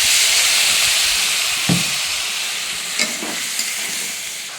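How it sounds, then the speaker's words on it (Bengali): Chopped tomatoes fry in a pan with a steady, fairly loud sizzle and hiss, broken by a few brief scrapes and clinks of a spoon stirring them. "এবার দিয়ে দেবো কেটে রাখা টমেটোগুলো, দিয়ে ভালো করে কষিয়ে নেব।"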